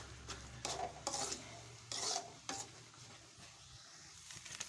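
Semolina sajjige being stirred in a pan with oil and ghee, a scraping, rubbing stir that comes in repeated strokes with a faint sizzle underneath, close and moderately loud.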